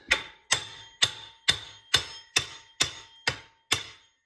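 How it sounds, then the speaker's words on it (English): Steel hammer blows on a seized steering knuckle of a Dana 60 front hub on a 2001 Ford F-350, nine sharp, evenly spaced metallic strikes about half a second apart, each ringing briefly, with no talk. "we're beating this knuckle on the bottom, top, and out here"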